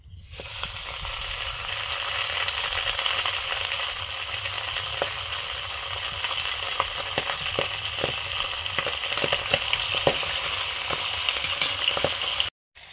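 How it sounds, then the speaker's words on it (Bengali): Tilapia fish frying in hot oil for a Bengali home meal: a steady, close sizzle throughout with scattered sharp pops and crackles, alone without talk, cutting off near the end. "তেলাপিয়া মাছগুলো ভাজছি।"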